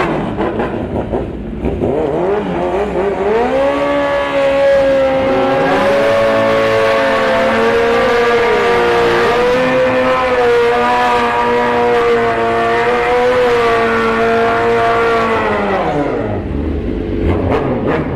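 A Hayabusa-powered drag racer fitted with a nitrous bottle revs loud and close at Orlando Speed World, its engine pitch climbing and holding in a long, sustained high-rpm howl before dropping away.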